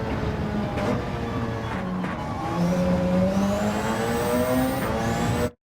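A Gr1 race car in Gran Turismo at Spa-Francorchamps, engine held at full throttle and climbing steadily in pitch through the gears, loud and close, with a brief tire squeal near the end.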